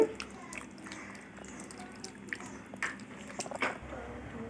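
Wet, squelchy stirring of a thick fish curry with water added, irregular soft squishes and scrapes close by, with a sharper knock toward the end.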